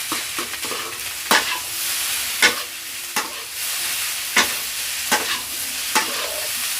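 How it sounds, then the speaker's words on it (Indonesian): Nasi goreng being stirred in a hot pan, with a steady sizzle of frying and regular sharp spatula scrapes and knocks every second or so, close and clear. "Aduk sampai rata."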